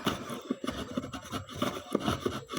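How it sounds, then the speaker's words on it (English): Sandpaper rubbing along a wooden violin bass bar in a luthier's workshop, a close, steady series of rasping strokes in quick repeated rhythm. "I'll sand that down."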